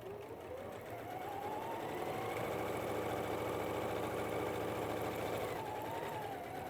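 A sewing machine with a normal presser foot runs continuously, stitching a line through thick fabric while making a log cabin mug mat; the steady whirring motor hum stays close and loud for the whole stretch.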